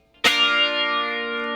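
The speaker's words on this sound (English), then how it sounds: "he'll put the echo back on and just hit the chords once on beat 2" A single electric guitar chord struck once, ringing out bright and sustained through an echo effect with chorus-like shimmer, decaying slowly and alone.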